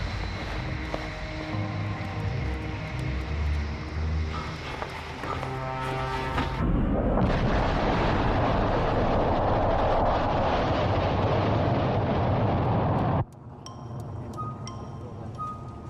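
The Jupiter C rocket launches on its maiden flight with a loud, dense roar that follows a musical passage, holds for about six seconds, then cuts off abruptly.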